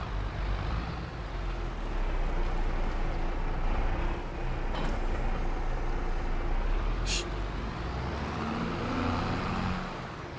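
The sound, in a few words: tractor running a mower in Farming Simulator 22 video game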